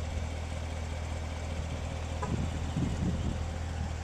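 A 2014 Chevrolet Corvette Stingray Z51 sports car engine idles with a low, steady rumble, close by and alone, with a faint clatter partway through.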